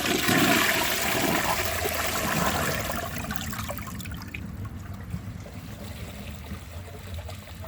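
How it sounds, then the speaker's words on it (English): A 2011 Duravit Starck 3 wash-down toilet flushing for a second time after a clog: a loud rushing surge of water that fades after a few seconds into a quieter trickle as the bowl refills. "Here's the second flush."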